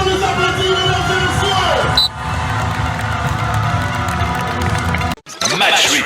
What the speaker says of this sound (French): voici la Gauloise de la SS, on les applaudit